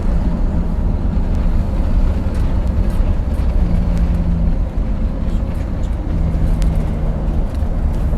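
Engine drone of a 1962 GM 4106 bus with a 3-speed V730 transmission with lockup, heard from inside while driving as it downshifts, a loud, steady low rumble with brief shifts in pitch.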